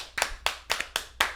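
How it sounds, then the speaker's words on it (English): Podcast hosts clapping their hands in a studio, five sharp, evenly spaced claps heard close and alone, without speech. "This isn't a live audience, so we have to clap as much as we can."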